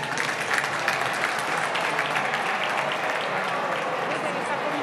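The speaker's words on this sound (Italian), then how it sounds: "Vedete, sta cominciando l'applauso a salire." Applause fills the Italian Chamber of Deputies during the vote count for the election of the President of the Republic, steady and dense clapping from a large crowd in a big hall, with voices mixed in.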